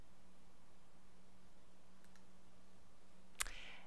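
A computer mouse clicks while saving a contact group in a texting program, a faint soft double tick followed by one sharp, close click near the end against a quiet hum.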